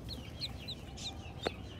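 A hen clucking close by among newly hatched chicks, with several short, soft clucks spread across the moment over a low steady background murmur and one brief sharper note near the end.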